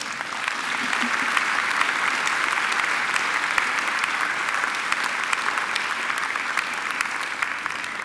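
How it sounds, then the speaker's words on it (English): A graduation ceremony audience applauds in a large hall, a steady dense wash of many hands clapping at even loudness throughout, with no voices over it. "I think she deserves another great round of applause"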